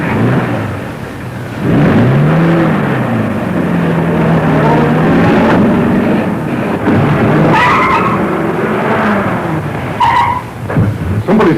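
A stolen car's tires squeal in a loud, wavering skid, then its engine roars and revs hard as it speeds away, ending in a few sharp clunks, all close and with no voices.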